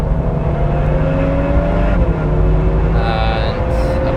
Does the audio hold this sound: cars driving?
yes